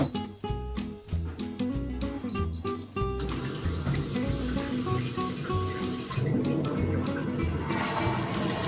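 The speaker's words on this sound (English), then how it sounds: "Once the toilet closes, it auto flushes." A HOROW T20 smart toilet flushes automatically after its lid closes, with a mechanical click followed by loud, close rushing and gurgling water that swells and continues steadily.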